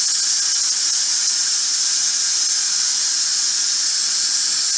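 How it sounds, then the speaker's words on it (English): Steam hisses steadily out of a pressure cooker's release valve while potatoes cook, a loud, continuous high-pitched rush that persists evenly throughout with no talk. "You can hear me over the steam."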